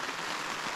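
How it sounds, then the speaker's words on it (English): Rain patters on a tent, heard from inside during the Australian Alps Walking Track hike between Mt McKinty and Mt Hotham. It is a dense, even hiss of drops across the whole brief moment, with no voices. "laying here in the tent with it raining"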